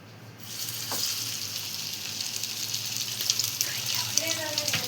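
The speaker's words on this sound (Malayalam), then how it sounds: "അത് ഫ്രൈ ആവട്ടെ" Chicken pieces frying in heated oil for homemade KFC, a loud continuous sizzle that starts suddenly and holds steady with faint clinks and scrapes.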